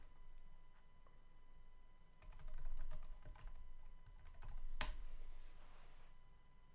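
Typing on a computer keyboard at a command-line console, a quiet run of quick, irregular key clicks with a few louder taps, set against a steady background hum and no speech.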